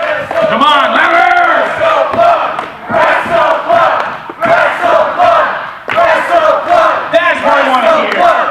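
A wrestling club audience roars and shouts in loud, sustained waves of cheering and battle cries, swelling and dipping across several surges.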